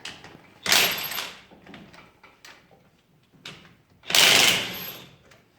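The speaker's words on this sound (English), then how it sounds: "so I do have the DeWalt impact" A DeWalt impact wrench removing lug nuts on a Can-Am BRP Commander side-by-side fires two loud, broadband rattling bursts of about a second each, separated by quieter clanks and handling noise.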